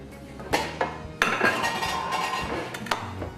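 A frying pan is taken out in a kitchen while pots and pans clatter, giving sharp metallic clanks and scrapes with several distinct knocks. The sound is close and busy, with no talk.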